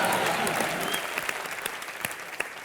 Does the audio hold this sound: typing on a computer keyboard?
no